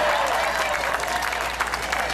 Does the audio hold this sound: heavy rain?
no